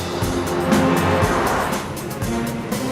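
A truck crawls along a rough gravel road hauling a house near a clifftop, its engine drone and rumbling, crunching tires forming a steady, dense roar with no break.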